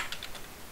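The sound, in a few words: computer mouse double-click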